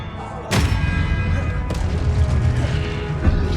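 Expelliarmus spell effect from the video game Hogwarts Legacy: a sharp, loud burst at the start, then a second hit about a second later, both over a dense, rumbling magical swell that holds to the end.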